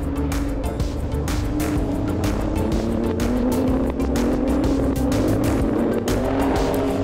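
Renault Sport RS01 race cars roar around a circuit during a Renault Sport Trophy race in Hungary, engines loud and sustained with rising revs and tyre squeal as they battle closely for position.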